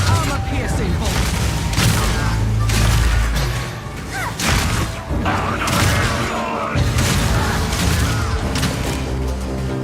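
A crossbow in Path of Exile 2 fires armor-piercing bolts. Loud, rapid shots and heavy thuds crash over one another in a dense burst of combat noise, with booms and whooshes mixed in.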